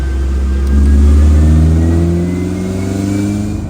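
A 1990 Honda CRX engine revs hard on a dyno, the steady mid-pitched roar swelling early then holding at high, even load, loud and close with no talking.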